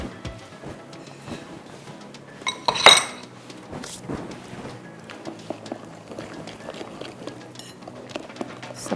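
Cake batter being mixed in a bowl, with a utensil clinking and scraping against the bowl in irregular close taps and one louder clattering burst early on, no talk over it.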